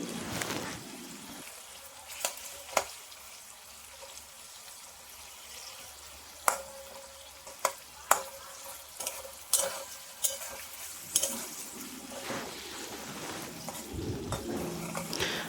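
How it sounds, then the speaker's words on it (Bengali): Tomatoes and ginger are stirred and fried in a pan for a paneer masala base, a soft steady sizzle broken by sharp scraping clicks of the spoon at irregular intervals, close up with no talking. "ভালো করে আমি এবার এটাকে নাড়িয়ে চাড়িয়ে নিচ্ছি, যাতে টমেটোগুলো ভালো করে একটু সেদ্ধ ভাজা ভাজা হয়ে যায়"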